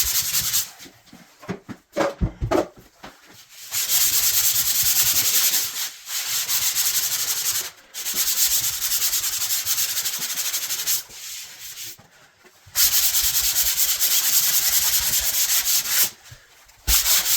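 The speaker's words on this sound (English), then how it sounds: "using a fresh sandpaper and both of my arms to sand, I cut through that" Fresh sandpaper worked by hand across sheetrock drywall makes loud, close, steady rasping strokes in long sustained bursts, separated by brief pauses where the sanding stops.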